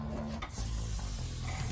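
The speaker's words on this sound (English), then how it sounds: "foam, we're just going to spray it around in a circle." Foam cleaner sprays onto car tires and rims in a brief hissing burst, close and steady with a short break, no talking.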